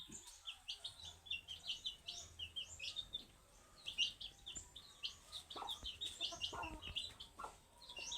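A brooding hen sitting on eggs clucks softly and repeatedly at close range, in short bursts with small gaps, amid faint outdoor background noise on a rural farm in the Philippines.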